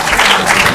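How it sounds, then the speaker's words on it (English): An audience at a junior high school quiz contest applauds at the end of a round, a dense, loud wash of clapping heard alone. "The end of this round, let's give them a round of applause."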